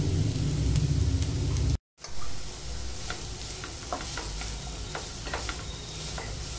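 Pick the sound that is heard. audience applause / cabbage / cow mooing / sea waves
cabbage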